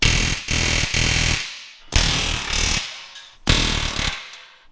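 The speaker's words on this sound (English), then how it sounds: "Time to air hammer." Loud, rapid pneumatic air hammer knocking out rivets in three long bursts, each a harsh rattling blast that stops abruptly, with short pauses between.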